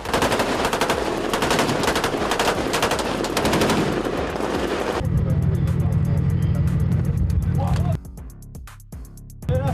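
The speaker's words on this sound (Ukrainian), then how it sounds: "Місцеві спостерігали стрілянину та вибухи." Rapid bursts of automatic gunfire crackle over a loud, constant rumble, with sharp single shots and heavy blasts echoing in the distance, during a strike near the port of Novorossiysk, Krasnodar region.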